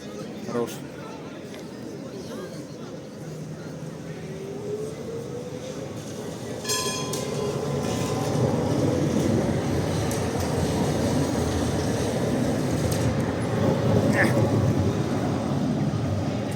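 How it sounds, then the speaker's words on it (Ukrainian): A tram in central Lviv rumbles into motion with a rising electric whine and wheel noise, growing louder as it pulls away, with street ambience and a voice at the start. "Ну, трамвай, рушай."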